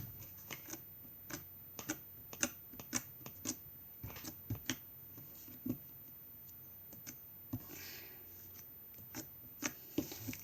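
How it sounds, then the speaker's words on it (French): Blue fluffy slime made with lots of glue and no shaving cream is squished by hand, giving a quiet series of sharp clicking, crackling pops at an irregular rhythm. The sound is close and there is no talking. "J'ai pas le même bruit que mon Fluffy Slime normal."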